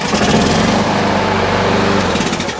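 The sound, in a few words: lawn mower engine starting after cord pull, then stopping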